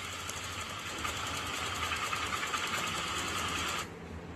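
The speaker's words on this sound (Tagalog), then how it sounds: "hanggang bababa yung idle ng motor." A Honda PCX160 scooter engine idles after an idle adjustment, a fast steady buzzing chatter at moderate level that cuts off abruptly just before the end.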